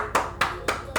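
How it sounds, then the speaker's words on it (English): Four close, crisp hand claps land at a steady rhythm, each a sharp smack with a short tail, with no speech in between. "I had to give him the hand clap"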